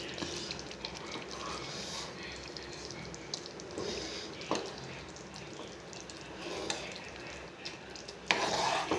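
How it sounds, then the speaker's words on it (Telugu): Brinjals fry in hot oil in a pan, giving a steady low sizzle broken by occasional stirring scrapes and clinks of utensils. A sharper clatter comes near the end. "వంకాయలు నూనెలో వేపి"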